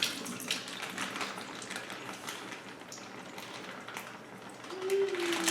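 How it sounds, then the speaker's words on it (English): Water holding venison marinade is dumped into a sink, giving a steady splashing, pouring rush with scattered clatter throughout, moderately close, ending in a brief tonal squeak. "Just dump the water with the marinade out here into the sink"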